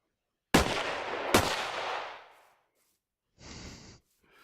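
Two sharp gunshots from a Modern Warfare firefight ring out close and loud, each trailing into a long echoing decay, followed by a brief burst of rustling movement; no talking.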